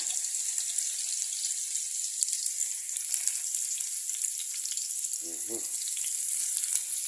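Garlic and vegetables sautéing in oil for a Filipino vegetable gisado, a steady hissing sizzle with a few faint clicks and a brief low knock near the end, no clear talking.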